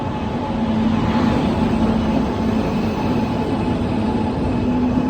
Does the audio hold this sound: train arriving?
yes